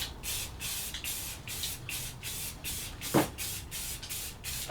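Rhythmic bursts of hissing spray paint on a truck cap, about ten quick pulses in a row, close up, with a brief knock partway through.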